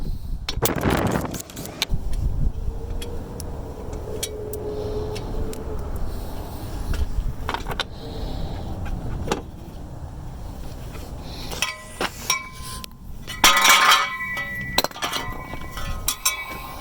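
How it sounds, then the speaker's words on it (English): Metallic clinks, taps and tool rattles from pulling the four bolts on the fan clutch of a 2005 Jeep Grand Cherokee WK with the 4.7 engine, worked from underneath; the clicks come in short bursts, with a denser clatter near the end. "Now we just take these 4 bolts out."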